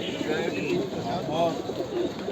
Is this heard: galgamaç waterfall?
no